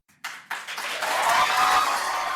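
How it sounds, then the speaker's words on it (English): A largely unmasked crowd applauding after a county council vote on an indoor mask mandate proposal, a burst of indoor clapping that starts abruptly and builds into sustained, moderately loud applause. "A largely unmasked crowd burst into applause after the vote on the proposal from Maplewood Democrat Lisa Clancy"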